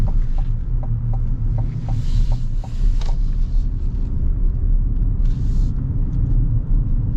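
A 2026 GMC Sierra EV electric pickup accelerates smoothly, heard from inside as a steady low road and tire rumble with faint intermittent ticks, no engine note, continuous throughout.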